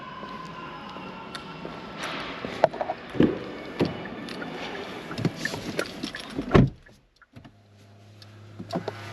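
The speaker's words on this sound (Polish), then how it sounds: "Fotel z pamięcią podsunął się." An electric motor whirs steadily as a Kia Ceed wagon PHEV power memory seat slides into position, with a few soft clicks and thumps, ending in a brief hum.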